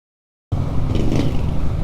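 Motorcycle tricycles pass on a Philippine street, a steady engine rumble and road noise starting abruptly after a brief silence and holding close and loud.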